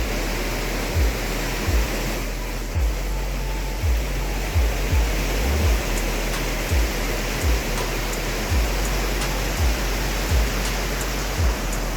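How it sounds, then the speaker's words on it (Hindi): The fast-flowing Issyk river rushes past at dusk in a loud, steady roar of water, with faint low thuds recurring underneath. "ये रिवर बहुत तेज़ी से जा रही है"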